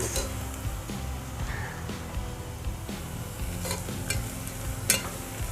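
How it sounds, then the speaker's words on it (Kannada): Chicken bhuna masala fries steadily in a pan, a continuous sizzle with repeated scraping stirs and occasional metal clinks, close and fairly loud with no talking. "ಇವಾಗ ಒಂದು ರೇಂಜಿಗಿದು ಫ್ರೈ ಆಗಿದೆ ಸೊ ಇನ್ನೊಂದು ಚೂರು ಫ್ರೈ ಆದ್ರೆ"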